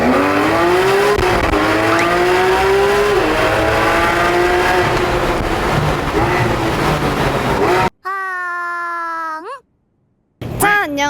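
A Porsche 911 GT3 RS with a naturally aspirated engine revs hard inside a tunnel, a loud rising and falling howl that echoes for several seconds, then cuts to sharper, isolated revs after a brief silence.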